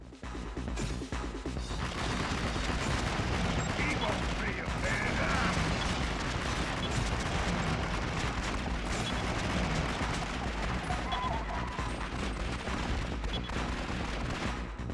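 Pistols fire rapidly in the arcade shooter Twin Caliber, a dense, continuous rattle of shots layered with crashing impacts and explosions. The barrage continues without pause for the whole stretch, under a voice speaking.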